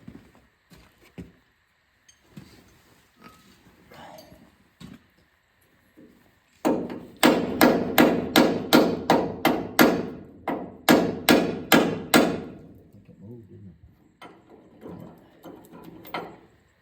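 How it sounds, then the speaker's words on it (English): Rapid, loud metallic hammer strikes on a rusty bolt of a Central Boiler CL6048 in two bursts of about a dozen blows each, after quiet fiddling sounds; a few softer taps follow. "I wonder if I can move this bolt with a hammer."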